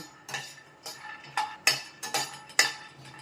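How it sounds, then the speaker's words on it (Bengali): Peanuts dry roasting in a pan, stirred in about seven quick rattling sweeps with short pauses between, close and fairly quiet. "এটা আমি সামান্য ভেজে নেব খোলা কড়াইতে, খালি ওভেনে।"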